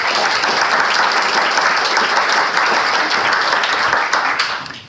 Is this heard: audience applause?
yes